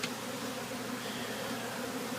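Honey bees buzzing around a beehive box set by a bay window, a steady moderate hum of many insects close by with no talking.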